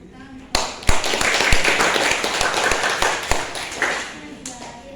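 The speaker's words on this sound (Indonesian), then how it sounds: "Kita beri tepuk tangan." Students in a classroom give a short round of hand clapping that starts abruptly, holds steady for about four seconds, then fades, with voices faint in the room.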